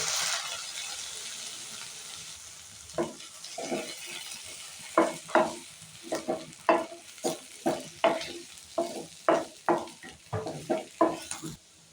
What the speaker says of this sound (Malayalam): ഒരു ടീസ്പൂൺ ലെമൺ ജ്യൂസ് കൂടി ചേർത്ത് നല്ലതുപോലെ മിക്സ് ആക്കാം